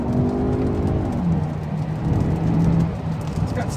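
A 2015 Kia Optima SX-L's engine pulls hard under acceleration from inside the cabin, a rising then settling drone with the gear changing midway, over tire and road rumble.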